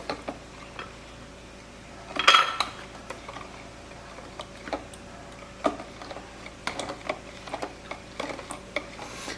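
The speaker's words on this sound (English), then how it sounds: "And then we just stir until it's all dissolved." A utensil stirs salt into water until it dissolves, making repeated light clinks and ticks against the container, with one sharper knock early on.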